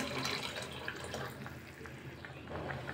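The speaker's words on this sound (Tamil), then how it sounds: "கொஞ்சமாக தண்ணி சேர்க்குறேன்." Water pours and splashes into a pot of cooked lentils for sambar, a short liquid rush with a few drips, close by and moderately quiet.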